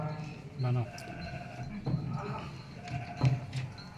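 A flock of sheep kept by shepherds in a field at night gives a few faint, scattered bleats against a busy, murky background.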